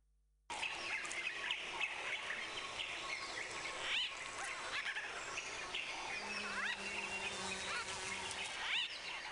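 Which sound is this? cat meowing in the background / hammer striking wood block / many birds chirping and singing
many birds chirping and singing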